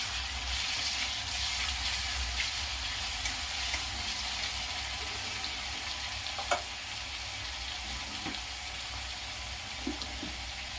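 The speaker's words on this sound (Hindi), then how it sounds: "तो अब टमाटर डाल दूंगी" Finely chopped tomato hits a hot pan of smooth ginger, garlic and cumin paste for chicken curry, giving a steady loud sizzling hiss with a few faint clinks of a spoon against the pan, no voices.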